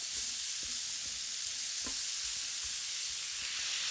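Butter, about a tablespoon, sizzles steadily in a hot pan with broccoli, a constant fine hiss with occasional soft pops and stirring clicks, no talking.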